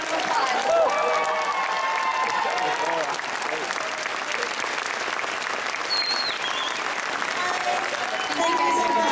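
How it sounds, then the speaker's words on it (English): Convention audience at Phoenix Comicon clapping for guests on stage, dense sustained applause from a large crowd that carries through, with a voice speaking over it. "Let's give them a big round of applause."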